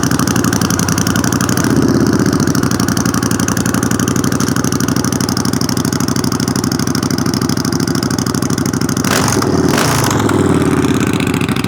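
A decatted Triumph Bobber motorcycle idles close and loud with a steady, lumpy beat, giving a brief blip of revs near the end.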